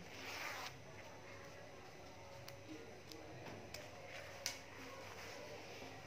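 A zipper is pulled open on a children's water-resistant windbreaker of parachute fabric with a covered zip, one quick close rasp at the start followed by faint light ticks and handling noise in a quiet room.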